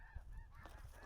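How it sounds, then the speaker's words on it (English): A large flock of migrating geese honking in spring or fall over open fields, layered overlapping honks that sound somewhat distant and fairly quiet over a low rumble. "can you hear all the geese?"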